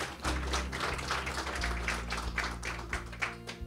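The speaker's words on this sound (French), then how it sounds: "Vous pouvez l'applaudir, hein, allez-y." An audience at a closing event applauds with a steady patter of many hands clapping over a low, droning hum, continuing evenly throughout.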